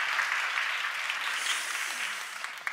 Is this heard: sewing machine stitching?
no